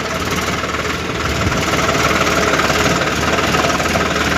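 Swaraj 744 FE tractor engine pulling a full load of sand, a loud steady diesel drone holding constant revs with a dense knocking throb, close and continuous with no pauses.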